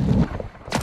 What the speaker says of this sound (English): They're shooting at the team that downed me